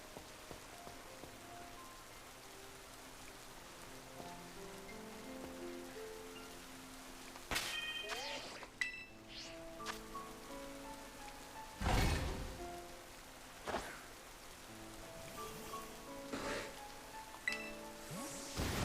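Rain falls steadily in a Pokémon video game, a soft continuous patter with scattered sharper drops and clinks, backed by quiet game music and effects.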